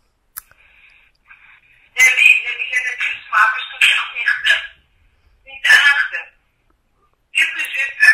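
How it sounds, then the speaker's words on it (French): A telephone rings out while a call to Fenty customer service waits to connect: three separate bursts of ringing tone, loud and close, with silent gaps between them. "Je suis en train d'appeler le service client Fenty"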